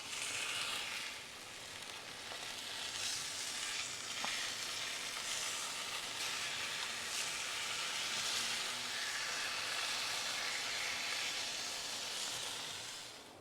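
A smoked prime rib, rubbed with fresh herbs and injected with beef fat, sears on a blazing hot grill. A loud, steady sizzle and hiss holds throughout with no voices.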